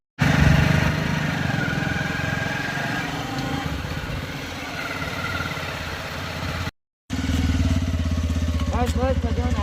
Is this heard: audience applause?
no